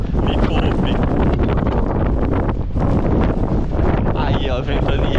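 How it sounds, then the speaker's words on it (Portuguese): Strong gale wind blowing outdoors on a windy day in Russia, a loud, continuous roar buffeting the microphone with gusty rustling throughout. "Aí, ó, ventania"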